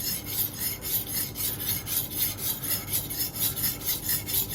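A deba knife scrapes back and forth over a whetstone that is short of water, a loud, dry rasping in a steady rhythm of about three strokes per second, close and with no talk.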